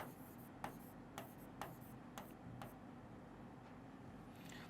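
Pen or marker writing out a Class 10 arithmetic progression maths solution, with a few short tapping strokes spaced about half a second apart over a steady faint background hiss.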